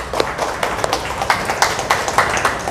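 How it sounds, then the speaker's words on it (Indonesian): An audience at a lecture event applauds, a steady patter of overlapping hand claps with sharp individual slaps standing out, moderately loud and close, with no speech over it. "Kita aplaus untuk Bang Windy."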